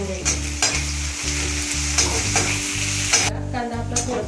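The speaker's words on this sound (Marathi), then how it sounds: "कांदा छान आपल्याला फ्राय करून घ्यायचे" Two onions fry in oil in a pan for masala idli, a steady close sizzle with rhythmic spatula scrapes and stirring strokes throughout.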